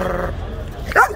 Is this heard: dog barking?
yes